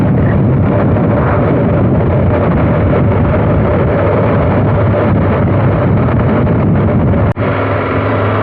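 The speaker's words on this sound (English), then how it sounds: "A bit windy up on the top." Strong wind buffets the microphone on a clifftop above the English Channel, a loud, constant low roar with a brief dip near the end and no talk.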